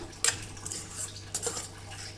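A spoon stirs ridge gourd curry with green chillies in a pan, giving a few sharp metallic scrapes and clinks spaced across a couple of seconds over a faint low hum.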